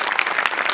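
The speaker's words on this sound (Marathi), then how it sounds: "तुझ्यासाठी स्पेशल टाळ्या." Audience applause for a performer at a Marathi comedy show, a dense steady clapping close and full for under a second with no voices.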